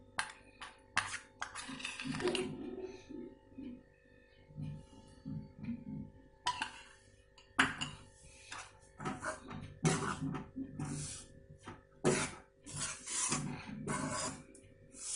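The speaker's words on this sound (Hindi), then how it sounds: "लगातार चलाते हुए हम आटे को धीमी आंच में भून लेते हैं" Bajra flour roasting in ghee over low heat is stirred continuously, making close, intermittent scraping and rasping strokes against the pan in uneven bursts, fairly quiet overall.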